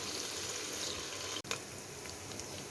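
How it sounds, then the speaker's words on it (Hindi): Water is poured steadily into a cooking pot while kadhi pakora is being made, giving a continuous close hiss broken by one brief pause before the flow resumes. "थोड़ा सा पानी ऐड कर लेंगे"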